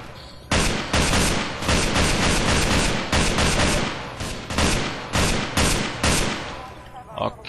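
Rapid bursts of gunfire in Half-Life 2 with the Cinematic Mod, loud, dense volleys crackling almost without pause, with a few brief gaps, and no voice over the shooting.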